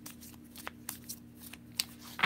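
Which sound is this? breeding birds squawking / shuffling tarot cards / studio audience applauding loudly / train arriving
shuffling tarot cards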